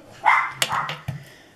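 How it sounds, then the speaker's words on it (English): Pet dogs barking indoors near a crafting table, a few sharp yips and barks in quick succession, close and clear against a quiet room. "Excuse my dog if you can hear them barking."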